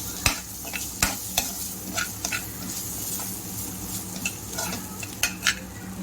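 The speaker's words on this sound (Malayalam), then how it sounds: "ഈ സമയത്ത് നമ്മൾക്ക് ഇതിലേക്ക് ചതച്ച് വെച്ച ഇഞ്ചിയും വെളുത്തുള്ളിയും ചേർക്കാം. ഒന്ന് സോട്ടേ ചെയ്യാം." Crushed ginger and garlic sauté in a pan for pav bhaji, sizzling steadily under repeated sharp scrapes and taps of a stirring utensil, close and clear.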